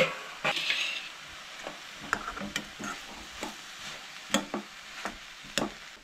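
Boiled potatoes for vegetable cutlets are pressed and mixed in a pan: soft, close scraping and squishing with occasional sharp taps of a spoon against metal, fairly quiet and irregular, with no talking.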